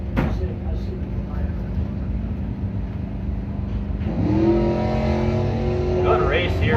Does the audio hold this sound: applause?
no